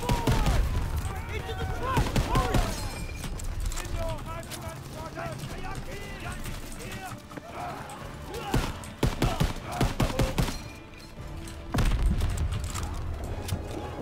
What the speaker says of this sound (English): And we're in and still getting shot up.